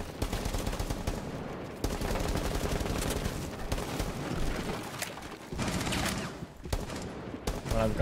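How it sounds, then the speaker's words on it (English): Video game gunfight with rapid automatic gunfire, dense overlapping bursts and shots in continuous volleys, loud and close, with brief pauses between exchanges. "Gunfight battle."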